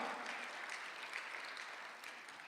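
A church congregation applauds during a Sunday afternoon worship service in Gwangju, South Korea, giving a brief, steady, fairly faint wash of clapping with no voices on top.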